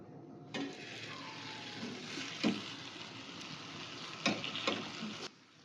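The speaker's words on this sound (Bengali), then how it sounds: "তো দেখো এটাকে আমি হালকা করে ভেজে নিয়েছি, এটাকে তুলে নেবো।" Steady crackling sizzle of rolled flatbread dough for egg rolls frying in hot oil, with a few louder bursts and clinks along the way, no talking.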